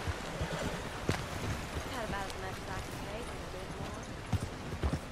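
Soft horse hoofbeats clop along at a steady walking pace in Red Dead Redemption 2, fairly quiet, with a few sharper thuds standing out.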